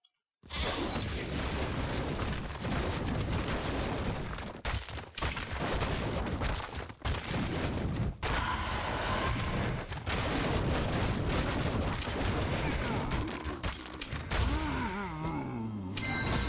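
Cannons and battle noise in the video game Storm Talk Arena, a dense, continuous barrage of booming blasts and crashes that stays loud throughout, with brief dips and a whooshing sweep near the end.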